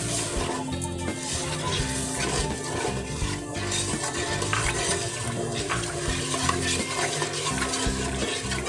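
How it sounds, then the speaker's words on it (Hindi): Milk and sugar going into a pan for homemade condensed milk, a steady, continuous liquid pour with stirring-like swishes, fairly loud and unbroken throughout. "सबसे पहले दूध डालेंगे, साथ ही चीनी भी ऐड कर दें।"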